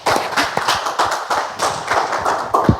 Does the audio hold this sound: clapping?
yes